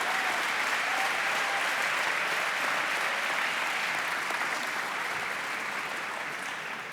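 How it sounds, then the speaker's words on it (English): Loud, dense applause from an audience at a college student athlete awards ceremony honoring a women's hockey team, a steady wall of clapping that holds for several seconds and eases slightly at the end. "A round of applause for the Newha women's hockey team."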